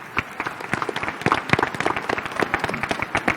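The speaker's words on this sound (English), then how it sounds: "Can we just get a round of applause for this graduating class" A crowd claps for a graduating class at a 2018 high school graduation ceremony, a dense, steady patter of many hands close by, with no talk over it.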